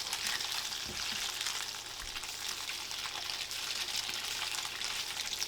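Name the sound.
tofu frying in oil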